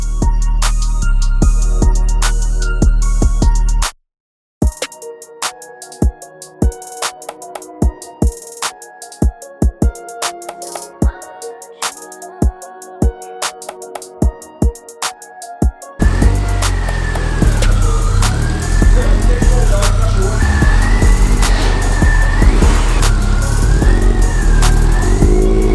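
Ford XR3i running on a dyno, a dense steady engine roar that builds for the last ten seconds, preceded by a stretch of sharp intermittent knocks and bangs with a brief dropout near the start.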